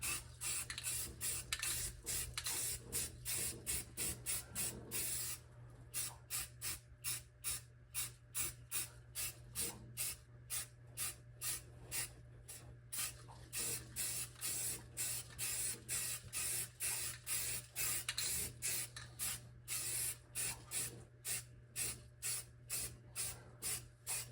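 Self-etching primer sprayed from an aerosol can onto the bare metal floor of a 1974 Ford F250 truck bed: a long series of quick, rhythmic hissing bursts, close and steady, with no talking.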